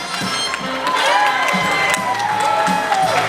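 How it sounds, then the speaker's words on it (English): An audience at a Diagon Alley show at Universal Orlando cheers, whoops and claps, with a lively crowd roar and children shouting close by. "Another round of applause"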